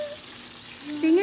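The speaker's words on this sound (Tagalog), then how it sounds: "nagpiprito siya ng fish" Fish frying in a pan gives a steady, soft sizzle, with a voice rising briefly near the end.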